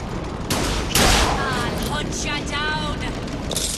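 Gunfire from enemies in BioShock Infinite: Burial at Sea rattles in rapid bursts, loud and continuous, with someone talking over the shooting throughout.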